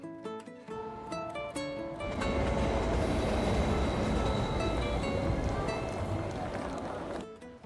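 A subway train rides with a steady, loud rolling rumble that swells in after a few soft musical tones and holds evenly before easing off at the end.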